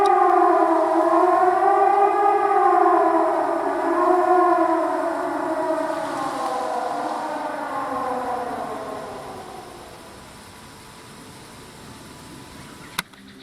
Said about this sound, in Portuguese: Do nada, uma sirene aqui que vai entrar em Silent Hill daqui a pouco.